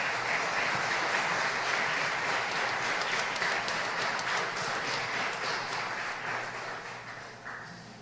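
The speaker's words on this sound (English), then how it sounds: "Once again, another round of applause." An audience at a tribute ceremony for Belizean patriots gives an award honoree a round of applause, a full, steady wash of clapping that gradually thins and fades toward the end.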